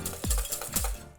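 Chilled cream being whisked by hand in a chilled bowl makes a few quick, close scraping and clinking strokes, soft and rhythmic, with no talking.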